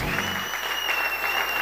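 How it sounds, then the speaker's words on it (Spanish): Audience applause at a sports awards gala honoring a rhythmic gymnastics club, a steady wash of clapping from a crowd heard through a hall sound system, with a faint tonal hum underneath. "Un aplauso fuerte para el Clube Inmare."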